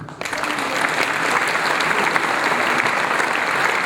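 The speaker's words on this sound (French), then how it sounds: "Je crois qu'on peut les applaudir." A crowd at a civic New Year's wishes ceremony in Croissy claps loudly and steadily, a dense sustained wash of applause that starts abruptly and continues unbroken.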